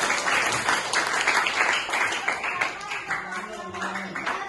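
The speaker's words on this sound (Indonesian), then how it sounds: "Tepuk tangan untuk kelompok 2" A class claps for a student group in a steady round of applause that fades slightly toward the end, with a voice faintly under it.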